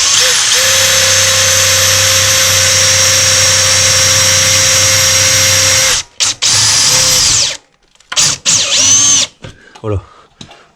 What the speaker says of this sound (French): j'ai vissé dans mon entretoise.